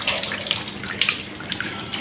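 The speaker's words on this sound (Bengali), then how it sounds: "সারাদিন ধরে একটানা বৃষ্টি, আজকে মনে হয় না থামবে।" Heavy, continuous rain pours down nearby in a dense, steady wash of water, with scattered louder splashes and drips standing out through the roar.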